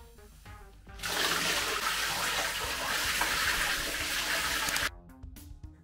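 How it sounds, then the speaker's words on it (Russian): Water gushes steadily through a working model pond filter built from a barrel joined to a pipe, a loud close rush lasting about four seconds before it cuts off abruptly. "это же, в общем-то, действующая модель фильтра"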